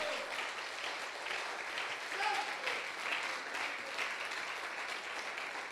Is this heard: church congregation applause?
yes